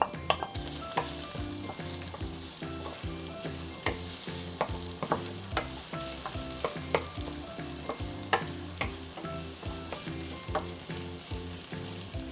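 Onion sautéing in hot oil in a pan for Filipino-style spaghetti sauce, a steady close sizzle with frequent scraping stirs and small clacks of a utensil against the pan, no voices.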